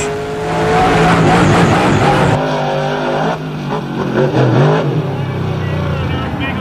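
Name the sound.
monster truck accelerating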